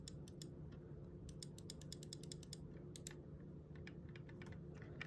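Pwnage Ultra Custom Symmetrical gaming mouse buttons pressed repeatedly up close, a quiet series of sharp, crisp clicks in irregular bursts with short gaps between them.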